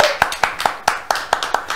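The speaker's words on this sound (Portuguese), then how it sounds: "Vamos aplaudir!" A small audience in a radio studio claps in loose unison, about eight sharp, evenly spaced claps ringing out close and clear with no talking over them.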